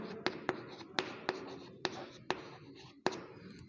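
A teacher writes on a board during a class 10 lesson, a quiet run of sharp taps and short scratchy strokes with irregular gaps between them.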